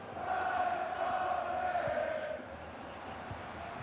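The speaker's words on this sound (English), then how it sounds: "The San Pauli crowd are absolutely crazy." A loud stadium crowd roars steadily at St. Pauli in a FIFA 23 match, a broad sustained rumble of voices that swells and then eases slightly, heard without commentary.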